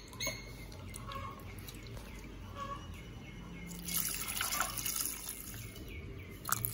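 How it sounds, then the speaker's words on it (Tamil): Tamarind is worked by hand in water for a Sri Lankan crab curry, giving faint, close squelching, trickling and dripping sounds with occasional soft splashes over a quiet room background. "அடுத்து வந்து புளி வந்து கரைச்சி விட போகிறோம்."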